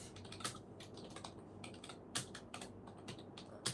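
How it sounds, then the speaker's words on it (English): Typing on a computer keyboard with one hand, irregular bursts of clicking keystrokes, close and fairly quiet, with no talking. "I'm typing with one hand."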